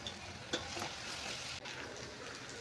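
Potatoes fry in a pan with a steady, even sizzle throughout, faint and close, with a couple of small clicks from stirring and no voices.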